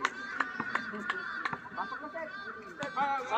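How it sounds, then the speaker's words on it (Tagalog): Harsh, repeated crow caws ring out in short bursts, some close together, over a steady background murmur at a basketball game. "Ang ingay naman ng uwak na yun."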